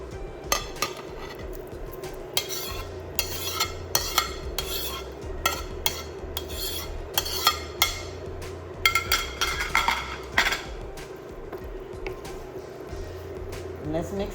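Metal utensil stirring meat into homemade beef gravy in a pan, repeated scraping and clinking strokes near and fairly loud, with a steady hum beneath.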